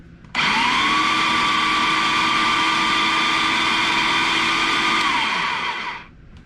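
A food processor fitted with only its bottom blade mixes shredded cheese and flour for homemade Cheez-its, a loud steady whirring motor running about six seconds before spinning down, with no talking.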